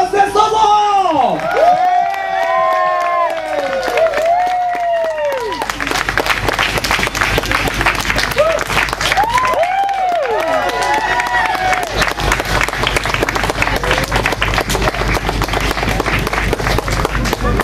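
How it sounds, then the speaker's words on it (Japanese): Audience at the 2013 Sanjo music festival bursts into applause and cheering to welcome a band, dense clapping and whoops building loud and sustained after a presenter speaks over the opening. "皆さん大きな拍手歓声で迎えていただきましょう。"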